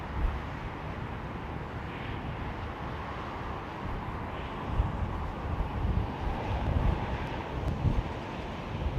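Airliner engines spooling to takeoff thrust at London Heathrow Airport, a broad, distant roar mixed with wind buffeting on the microphone, steady and swelling slightly toward the end, with no voices.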